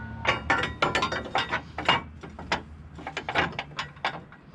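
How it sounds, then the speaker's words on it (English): A hand ratchet with an 18mm socket works on the steering box bolts of a Jeep, a close, dry clicking in quick bursts of several pawl clicks separated by brief pauses. "We're gonna remove our 4 steering box bolts using an 18mm socket."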